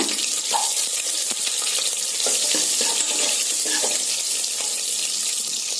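Shallots, garlic, dried red chili and curry leaves sautéing in oil for a sprouted green gram kulambu, a steady bright sizzle with light stirring clicks, close up and continuous.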